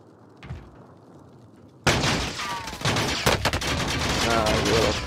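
Heavy gunfire from a battle royale video game shootout erupts suddenly after a quiet start, with dense overlapping bursts and sharp shots that continue loud to the end, and a voice is faintly present.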